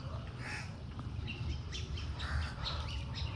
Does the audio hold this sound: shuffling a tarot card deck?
no